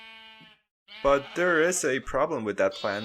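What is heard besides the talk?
sheep bleating in the video game Minecraft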